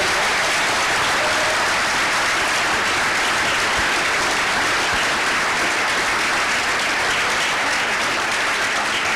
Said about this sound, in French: vous pouvez nous applaudir